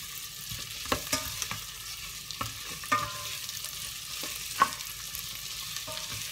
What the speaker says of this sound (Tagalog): i-fry natin yung ating onion at saka yung garlic hanggang sa maging yung translucent na yung ating onion.